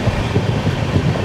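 A train nears Kanalus station in Gujarat, heard as a loud, steady rumble of rolling wagons with no distinct clacks and no talk.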